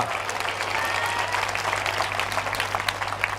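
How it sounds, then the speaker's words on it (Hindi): Congregation at a Hindi-language Christian church service applauding for the Lord, dense steady clapping throughout, moderately loud with a constant low hum beneath. "क्यों ना प्रभु के लिए ताली बजाए"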